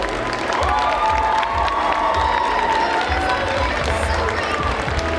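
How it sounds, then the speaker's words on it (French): Audience applause and cheering at a cosplay contest during a convention, a loud continuous crowd roar with clapping and shouts, steady throughout with rhythmic low thumps underneath. "on a applaudi très très très très fort"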